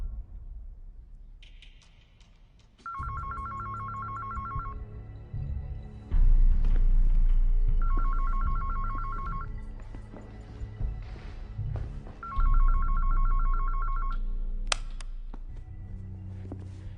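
A telephone rings in a war movie scene, a call to the general: three bursts of electronic trilling ring separated by pauses, over low rumbling background sound.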